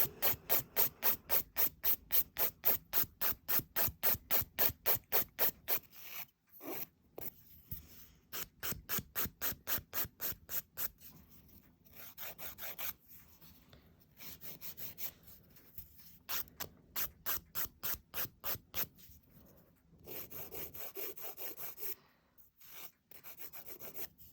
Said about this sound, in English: File my free edge.